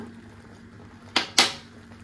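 Two sharp metallic clinks of a utensil against a pan while thickened milk is stirred with spoonfuls of milk powder for a homemade sweet, close and distinct over a quiet low background hum.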